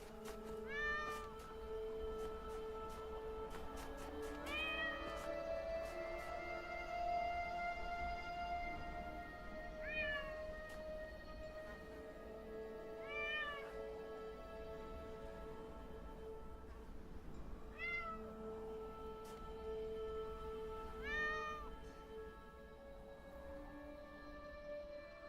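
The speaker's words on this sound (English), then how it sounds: "is this in the game? Guys, do you hear cat?" A cat meows repeatedly inside The Talos Principle Reawakened video game, about six clear drawn-out calls at steady intervals over a constant ambient game hum, with no talk.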